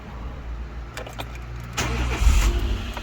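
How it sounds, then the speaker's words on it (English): A Dacia Logan engine cranks over and catches after ECU work, rising into a rough rumble near the end after a few clicks and clunks. "Let's see if the car will start"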